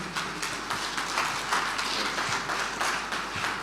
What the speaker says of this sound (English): please get on your feet and give a round of applause to Mr.